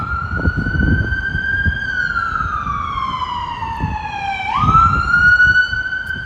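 On a Brooklyn street, an emergency vehicle siren wails loud and steady, sliding slowly down in pitch and then jumping back up, over rumbling traffic and intermittent low thumps.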